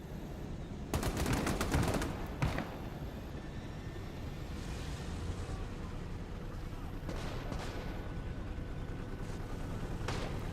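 Artillery rounds and gunfire from the Cold War RTS game Gone Hot 1968 open with a dense, rapid burst of shots and impacts, then give way to a continuous roaring rumble of battle noise.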